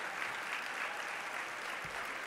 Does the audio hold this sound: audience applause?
yes